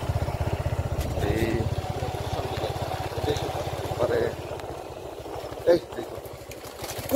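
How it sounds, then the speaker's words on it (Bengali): A motorcycle rides along a road through jungle, its engine thumping in a fast, even pulse close by that eases off partway through, with people talking over it. "আমরা পুরা জঙ্গল দিয়ে ঢুকছি আর কি মজুল বাইক চলে যাচ্ছে"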